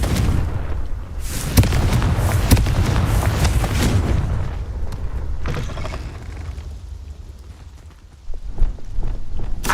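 A Confringo fire spell blasting in Hogwarts Legacy: loud booming bursts crowd the first few seconds, then thin into scattered thumps and a softer rumble before another bump near the end.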